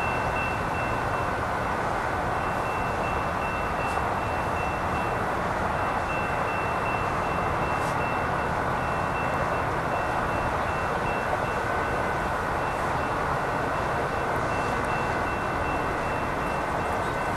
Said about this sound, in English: Probably hear the train behind me.